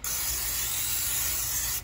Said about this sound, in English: All right, so just a quick spray.